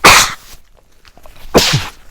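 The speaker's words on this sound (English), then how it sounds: "Uh-oh, I'm about to sneeze." A person sneezes up close: a sharp, loud, breathy burst, then after a short quiet gap a second explosive, partly voiced burst, with no other sound around it.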